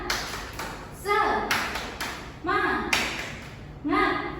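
A classroom of children does a rhythmic group clapping chant in short bursts of sharp claps, alternating with voices calling out in between.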